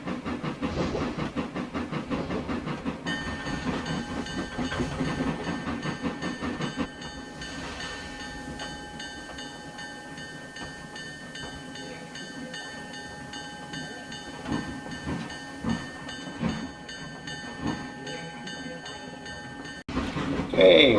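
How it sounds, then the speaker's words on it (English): A simulated train in the Trainz railway game rolls steadily along the rails into a station on a branch line, with a continuous rumble and hiss and someone narrating over it. "We're going to take the train right into the station here."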